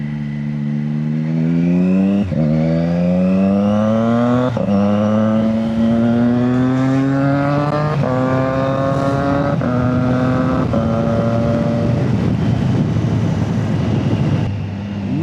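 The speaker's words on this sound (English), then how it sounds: "Man, this bike sounds so good." A motorcycle engine heard close up while riding, its deep rumble climbing in pitch through several rising runs with gear shifts in between, loud and continuous, with wind noise underneath.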